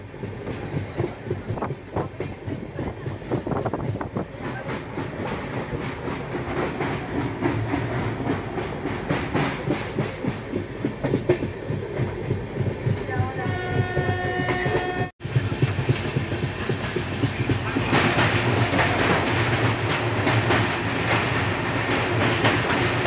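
The Kanchankanya Express runs along the west bank of the Teesta in the Terai, giving a steady loud rumble with repeated clickety-clack of wheels over rail joints, and a sharp change in the noise about two-thirds of the way through.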